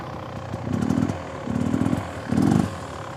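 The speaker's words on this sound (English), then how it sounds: "when we release the clutch, you should hear the revs from being high and audible to ooh" A motorcycle engine revs in three short bursts as the clutch is released during obstacle riding practice, each rise and fall clear and close with a rough mechanical rasp.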